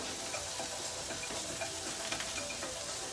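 Olive oil frying in a hot pan while Salisbury steak is being made, a steady dense sizzle with faint crackles and pops throughout, close and fairly loud.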